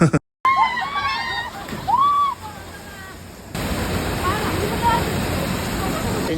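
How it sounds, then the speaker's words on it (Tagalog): Uway Falls in Agluluway, Hamindan, Capiz roars as a steady broadband wash of falling water, loud and continuous, with someone talking and brief chirps over it early on before the rush takes over alone. "the beauty of Uway Falls at Agluluway, Hamindan, Capiz"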